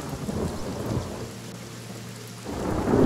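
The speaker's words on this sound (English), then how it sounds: "Can you make it rain?" Rain and thunder conjured by a spell in the video game Divinity: Original Sin, inside a cave: a dense hiss of rainfall under deep rumbling thunder that swells at the start and again near the end.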